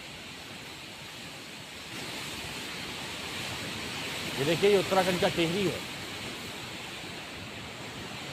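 Swollen, flooding river in Tehri, Uttarakhand, a constant broadband roar of rushing water throughout, with someone speaking briefly over it midway.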